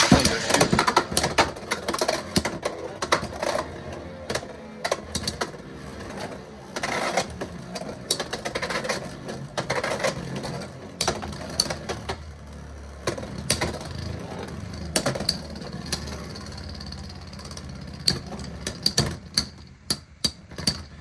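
Beyblade X spinning tops, including Samurai Caliber, clash in a plastic stadium with rapid sharp clicks and rattling hits. The tops grind and whir continuously at close range, with dense bursts of impacts and no talking.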